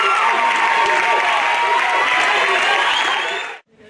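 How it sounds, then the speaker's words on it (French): Audience applause at a middle-school eloquence contest at Collège Lucie Aubrac, a thick, even burst of many people clapping with some cheering that stays loud and then cuts off abruptly. "Et je crois que vous pouvez applaudir les autres."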